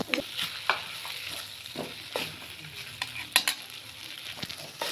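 Egg rice being stirred and tossed in a hot pan, with repeated scraping strokes of a spoon over a steady background sizzle, close and moderately loud, no voices.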